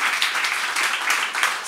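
A short, steady burst of crowd applause for a guest on a French-language talk show, filling under two seconds with dense, even clapping and no clear voice.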